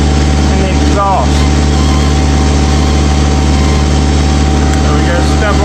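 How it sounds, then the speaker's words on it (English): A truck's reefer unit runs loudly and steadily, a constant droning engine hum that fills the whole clip, with a brief voice speaking over it near the start. "Loud reefer unit's on."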